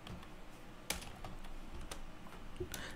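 Keystrokes on a computer keyboard as a short search keyword is entered, a quick uneven run of close, crisp clicks with one louder tap near the start, over a low room hum.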